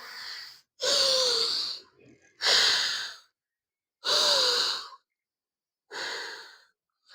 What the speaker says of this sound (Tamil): நல்லா மூச்சு இழுத்து விடணும்